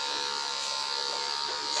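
Electric hair clipper buzzing steadily through a haircut practice session, a continuous bright electric hum with no pauses and no voices over it.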